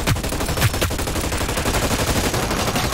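Rapid, continuous automatic gunfire from a multiplayer shooter game, dense and loud throughout, with sharper individual shot bursts near the start and no speech over it.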